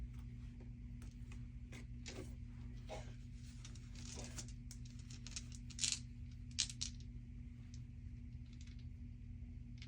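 A twelve-sided die rattles and clicks across a tabletop during a savings challenge game, a series of faint, irregular taps with a couple of sharper knocks near the end.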